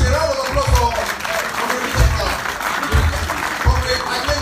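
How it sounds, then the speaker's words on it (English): An audience gives a round of applause at a ceremony honouring Adeyeye Ogunwusi, the clapping moderate and mixed with voices and low thumps. "Please, a round of applause for"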